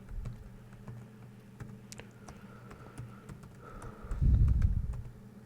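Quick, light key taps on a computer keyboard while entering code for addition and subtraction operations, scattered clicks at close range, with a heavier burst of keystrokes near the end.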